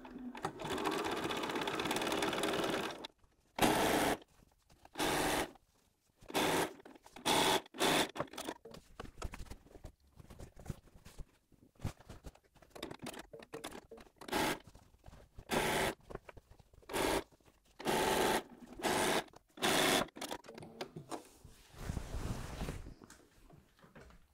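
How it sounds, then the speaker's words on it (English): A domestic sewing machine fitted with a walking foot stitches through thick quilted layers for a pillow case, running in repeated short bursts of rapid whirring separated by quiet pauses, close and clear. "So I've got a walking foot on my machine because I'm going through lots of layers."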